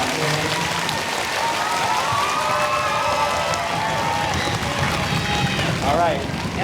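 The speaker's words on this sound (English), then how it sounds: "can we have a thunderous round of applause for our veterans for coming out today?" Students at a school Memorial Day assembly give a loud, sustained round of applause for visiting veterans, steady clapping mixed with crowd murmur and scattered voices throughout.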